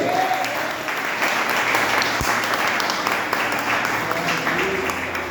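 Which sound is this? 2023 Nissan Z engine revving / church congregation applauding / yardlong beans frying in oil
church congregation applauding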